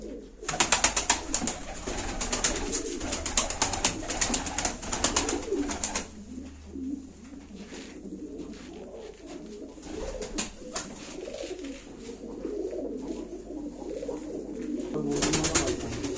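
A play pigeon coos at a live auction, with repeated soft close cooing and bursts of rustling, broken by a quieter stretch and little talking.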